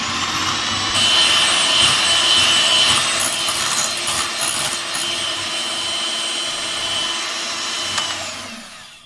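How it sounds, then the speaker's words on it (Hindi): Electric beater whirring steadily through a chocolate ice cream mixture, a loud continuous motor hum with a scraping texture that fades and cuts off near the end. "तकरीबन 5 मिनट हमने इसको बीट किया है और ये अच्छी तरह बीट हो गई है"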